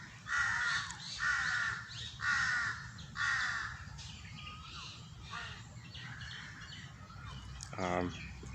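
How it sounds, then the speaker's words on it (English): Crows caw outdoors in loud, harsh repeated calls, several bursts in a row, then quieter calls and a final rattling caw, over a steady low background rumble. "Nice to hear the crows."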